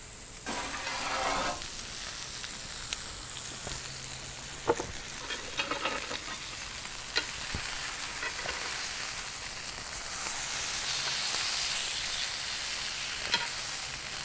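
Steaks sear in an Ooni Koda 16 pizza oven set on low, a soft continuous sizzle with scattered small ticks and scrapes, fairly quiet and close, with no talking.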